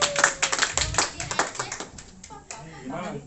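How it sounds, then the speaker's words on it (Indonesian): An audience at a business talk event claps for a guest introduced on stage, with a short burst of scattered clapping under a speaking voice. "Tepuk tangan buat Bos Kim, Bapak Ibu."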